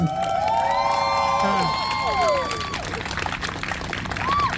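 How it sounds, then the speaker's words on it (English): A large crowd at a pro-Palestinian news conference at the University of Wisconsin-Milwaukee cheers and whoops loudly, with scattered clapping and high shouts rising over a steady roar. "I want everyone to give yourselves a big round of applause."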